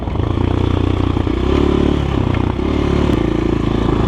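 A GEON X-Road 250 PRO motorcycle ridden in third gear at low revs through a forest, its engine a loud, steady low chug with some rattling clatter from close by.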